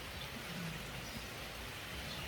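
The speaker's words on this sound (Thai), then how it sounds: "ฝนตก" Steady rain falling, a dense even hiss of drops on surfaces that stays constant throughout, fairly loud and unbroken, with no voices.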